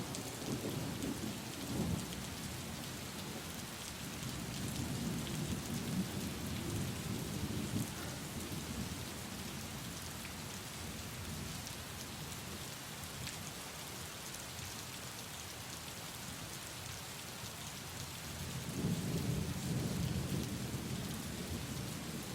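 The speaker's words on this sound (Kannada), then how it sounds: "ಬೆಳಗಾವಿ ಮತ್ತು ಚಿಕ್ಕೋಡಿಯಲ್ಲಿ ಭಾರಿ ಪ್ರಮಾಣದಲ್ಲಿ ಮಳೆ ಆಗ್ತಾ ಇರುವಂತದ್ದು" Heavy rain pours down steadily in Belagavi, a dense continuous hiss with low rolls of thunder swelling at the start, around the middle and near the end, with no voices.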